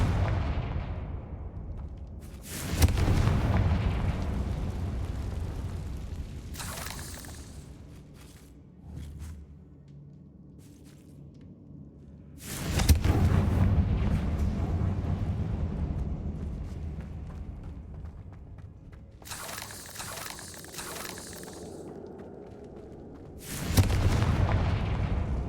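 Confringo blasting spells explode in Hogwarts Legacy gameplay, heavy booming blasts landing about four times at irregular intervals, each followed by a long rumbling decay that fades back toward a low ambient hum.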